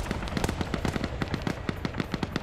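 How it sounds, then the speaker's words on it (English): Repeated sharp blasts in a competitive online shooter match, anti-tank weapon fire landing as a fast, even string of loud cracking thumps throughout the short stretch. "Just heard AT fire."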